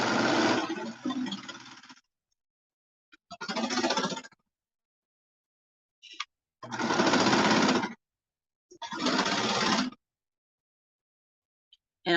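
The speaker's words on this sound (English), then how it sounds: "you lay it flat like this onto your sewing machine" Sewing machine stitching the lining of a bomber jacket hood, running in four separate bursts of two to three seconds each, with quiet pauses between them, close and fairly loud.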